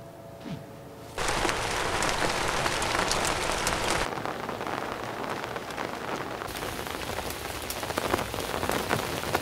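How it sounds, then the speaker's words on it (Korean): Steady rain falls outdoors in daytime, arriving as a brief soft patter and then swelling into a loud, dense hiss of raindrops on surfaces that keeps up unbroken to the end. "비 와요. 빗방울 떨어진다."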